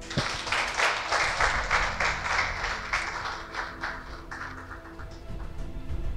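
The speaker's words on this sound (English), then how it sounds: "Another round of applause." Applause from the audience at a Guru Purnima lecture event in Accra, loud group clapping that starts strong, thins into scattered claps and fades to a few last ones near the end.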